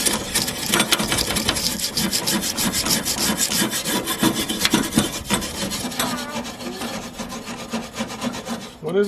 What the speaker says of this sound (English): I'm scrubbing some rust off.